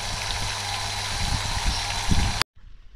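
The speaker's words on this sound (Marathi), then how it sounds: "पाणी मगापासून चालूच आहे." Irrigation water running through a channel to banana plants on a farm: a loud, steady rushing flow close by for over two seconds, then an abrupt cut to near quiet.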